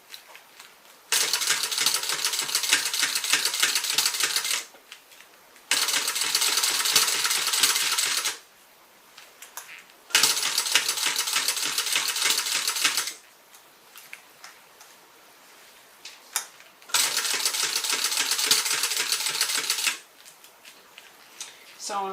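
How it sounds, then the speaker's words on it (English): Sewing machine stitching through a faux croc tote bag, four rapid, even bursts of fast ticking lasting about three seconds each, separated by short pauses, close and clear. "I'm going to stitch till I'm about 1/8 of an inch away from the edge."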